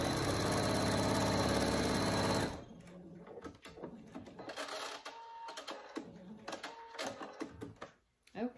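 A sewing machine runs fast and steady, stitching around the edges of a fabric hanging pouch for about two seconds, then stops, leaving scattered handling clicks and rustling.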